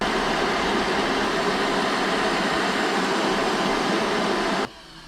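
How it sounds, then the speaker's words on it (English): Electric stand mixer whisking four whole eggs at high speed for a Victoria sponge, a steady loud whirring drone that cuts off abruptly near the end, no voices. "We're going to whisk the eggs for 3 minutes."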